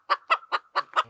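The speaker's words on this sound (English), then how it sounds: "Let me get away from these crazy chickens." Chickens clucking close by: five short, evenly spaced clucks in a quick rhythm, loud and clear, with no talk.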